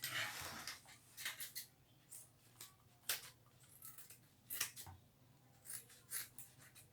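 Scissors snip away excess fabric while sewing a stroller backpack, a series of short, sharp cutting clicks spaced irregularly, faint and close with no talk.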